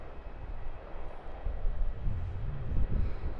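Aircraft taxiing at Melbourne Airport, a steady low engine rumble and roar that swells slightly toward the end, heard from some distance with no voices.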